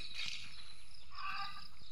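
A bird calls out in a couple of nasal, warbling bursts, clucking like poultry, fairly close against a steady background hum.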